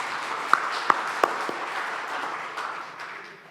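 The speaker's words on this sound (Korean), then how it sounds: "이럴 땐 박수하는 거요." A church congregation breaks into applause during a Sunday service, with a few sharp, distinct claps standing out over a softer, steady patter that slowly fades away.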